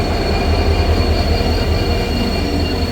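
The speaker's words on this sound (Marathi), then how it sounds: "सो आता फायनली आपली ट्रेन अराईव्ह झाली आहे." A passenger train on the Dadar to Akkalkot route pulls into a station, with a loud, steady rolling rumble and a thin, continuous wheel squeal throughout and no voices.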